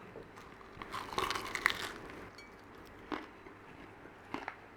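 Someone bites into crispy Arabic spinach rolls (fatayer sabanekh), producing soft, close crunches, a cluster early on and a few isolated ones later, over a quiet background.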